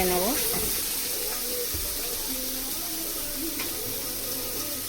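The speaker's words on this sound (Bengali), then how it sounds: "নেড়ে নেব।" Spiced prawn curry with turmeric, chilli powder, cumin and coriander powder sizzles steadily in a pan while it is stirred. The frying hiss stays even and close throughout, with a few tonal, voice-like sounds near the start.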